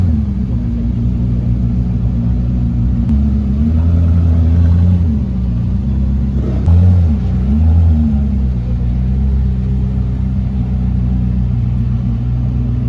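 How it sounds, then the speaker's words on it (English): A white Koenigsegg Jesko hypercar with red accents rolls by on a downtown Monterey street, its engine a steady low rumble throughout with a brief swell partway through, loud and close. "You got the first customer Jesko driving by here in downtown Monterey."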